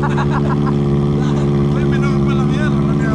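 A loud motorcycle engine drones and revs continuously up close, with people talking over it.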